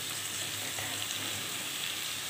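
Snake gourd frying in a pan with turmeric and salt, a dense, steady hiss of sizzling oil, close and unbroken, with no voices.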